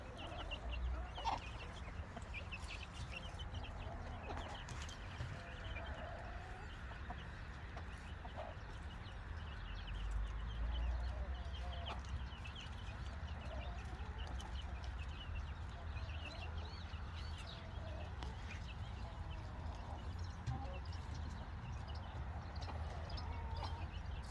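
Backyard chickens cluck and murmur softly at a distance in a quiet outdoor coop setting, with occasional faint rustles and low background noise throughout.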